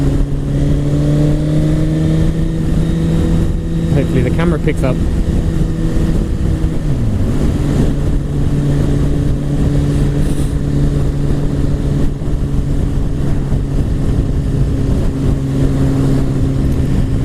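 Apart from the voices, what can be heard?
Suzuki GSX-R1000 motorcycle engine revving and accelerating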